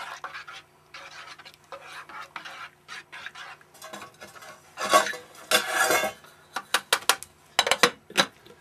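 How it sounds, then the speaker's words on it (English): A utensil stirs backpacking food in a metal camp pot, scraping and clinking close up, a soft swishing that builds into louder, quicker scrapes and knocks near the end. "Stir it up."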